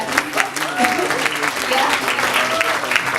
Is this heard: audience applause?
yes